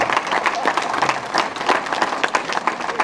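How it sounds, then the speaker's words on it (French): Guests at a prize-giving ceremony applaud a sponsor, a brief burst of lively, fairly close clapping from a modest crowd, with slight murmur mixed in. "On applaudit."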